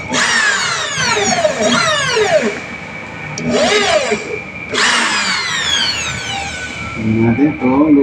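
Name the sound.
power drill boring a hole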